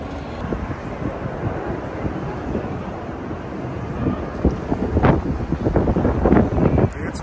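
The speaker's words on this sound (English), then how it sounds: "It's windy." Gusty wind buffeting a phone microphone outdoors in Las Vegas, a loud rushing roar that swells in stronger bursts toward the end, with faint voices nearby.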